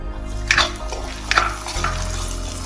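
Chopped small shallots sautéing in a pan, with a close, steady sizzle and two quick scraping stirs against the metal, and no voices.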